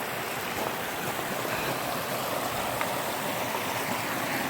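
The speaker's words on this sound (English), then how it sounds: "We got this little water source here. It's kind of just flowing, you know, and it's coming off of Pikes Peak" Small mountain stream of snowmelt flowing off Pikes Peak in Cheyenne Canyon, a steady close rushing and burbling of water with no breaks and no voices.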